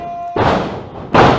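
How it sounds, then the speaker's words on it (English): A wrestler slammed onto the mat by a swinging neck breaker at a Tier 1 Wrestling match, two heavy, booming close thuds about a second apart, the second the loudest, with no voices over them. "Swinging neck breaker."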